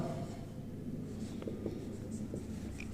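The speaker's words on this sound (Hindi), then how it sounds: "चलिए मैं फर्स्ट क्वेश्चन आपका लिख रहा हूं बोर्ड पे।" Chalk or marker writing a maths question on a classroom board, a steady faint scratching with short strokes running through the whole stretch, no voices over it.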